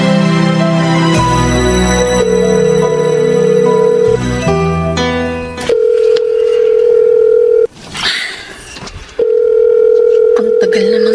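A telephone call rings out unanswered: a loud, steady electronic ringback tone repeats in long sustained pulses, with brief gaps and a short stretch of other noise between tones.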